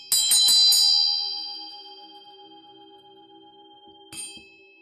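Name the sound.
bell ringing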